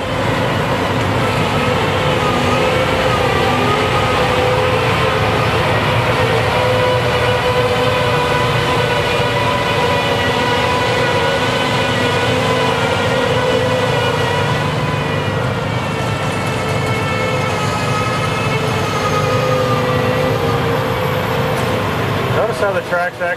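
A John Deere tracked combine turning around in a field, a loud, steady engine and machinery drone with layered whine tones that holds throughout, ending in a brief clatter.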